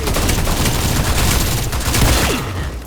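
Dense, loud gunfire from the mobile action shooter T3 Arena, rapid overlapping shots in a continuous barrage lasting the whole stretch, with no voices.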